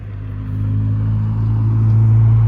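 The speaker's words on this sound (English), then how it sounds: "Nice old truck." An old truck rolls past with a steady low engine rumble that swells slightly as it nears, heard outdoors beside a garden in spring.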